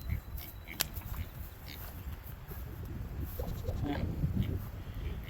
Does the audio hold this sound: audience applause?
no